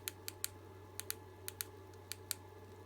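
Keypad presses on a Helida CP UV2000 handheld radio while entering a PMR channel: about ten sharp, clicky beeps in uneven bursts over a steady low electrical hum, with no talking.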